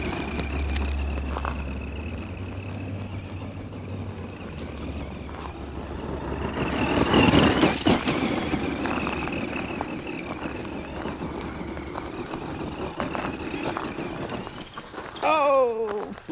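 A vintage Tamiya Blackfoot 1/10 RC monster truck with a MIP differential runs at full throttle in a backyard, its electric motor whining under a steady hum with a louder surge midway and rising pitch sweeps near the end.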